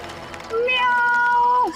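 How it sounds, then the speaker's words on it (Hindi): A house cat gives a single drawn-out meow, close and fairly loud, rising then holding steady before dropping off, with faint background room noise before it. "ओहो बिल्ली है।"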